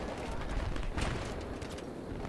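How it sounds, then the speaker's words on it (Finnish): A tank fires in the video game Battlefield 3. One heavy cannon boom bursts out midway through a rumbling mix of distant battle noise. "Joku ampuu. Se on tankki."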